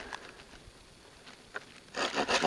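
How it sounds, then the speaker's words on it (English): A hand saw cuts a small piece of wood at a campsite, a few faint rasping strokes at first, then louder, faster back-and-forth sawing building at the end. "Sometimes when you're sawing small things, the saw will be so aggressive that it'll lift it and your foot up"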